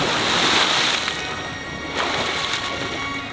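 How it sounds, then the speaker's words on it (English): A person jumps off into the open sea, landing with a loud broadband splash and crash of churning water, followed by sloshing surf and a second surge of splashing, close and alone with no talk. "I just plunged into the water"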